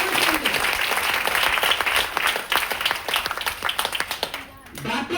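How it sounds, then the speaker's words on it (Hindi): Loud applause from an audience at a DXN product talk, a dense burst of clapping that thins and dips near the end, with a voice briefly heard over it. "जोरदार ताली।"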